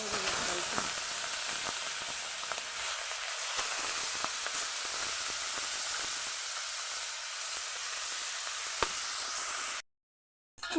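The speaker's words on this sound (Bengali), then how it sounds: "এবারে চিংড়িটা আমি তেলের ভিতরে" Prawns rubbed with salt and turmeric sizzle and crackle steadily in hot oil for a prawn curry with potato and ridge gourd, a loud, even frying hiss that cuts off abruptly near the end.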